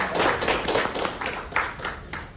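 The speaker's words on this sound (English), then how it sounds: "Big round of applause." A small Toastmasters club audience claps for the opening speaker of a debate, with a short, uneven burst of a few hands clapping nearby.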